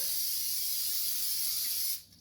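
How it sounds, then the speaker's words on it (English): Vegeline food release spray hisses steadily from an aerosol can into an air fryer basket for about two seconds, then stops abruptly. "I use Vegeline all the time. It's a food release spray."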